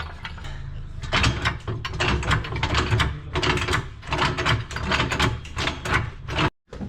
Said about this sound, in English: Just gonna jack it up from there.